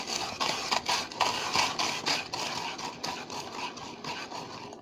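A NutriSlicer kitchen slicer is cranked by hand, giving a steady run of rhythmic grinding, scraping strokes, close and moderately loud, with no talking.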